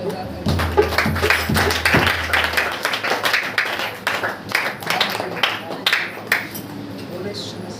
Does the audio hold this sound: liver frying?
no